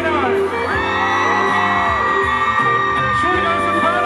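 A concert crowd screams and whoops through loud live band music and singing at the Urban Happiness 2018 show at Gateway Ekamai in Bangkok, with the cheering steady and dense throughout.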